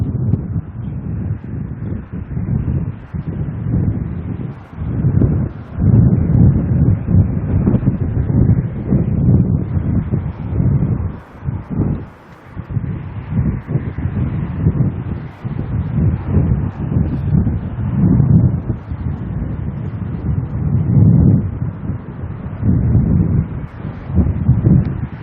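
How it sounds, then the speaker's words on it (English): Strong wind buffets the microphone at an airport plane-spotting spot, a loud, continuous low roar with gusty surges and brief lulls throughout. "So much wind there."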